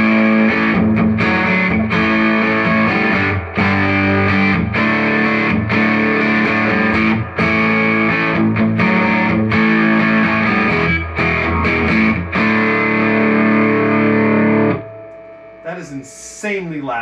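A Fender Deluxe Reverb Tone Master amp turned up all the way blasts heavily distorted electric guitar chords, loud and sustained with brief gaps, then cuts off near the end into quieter picking.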